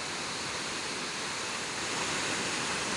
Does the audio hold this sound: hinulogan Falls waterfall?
yes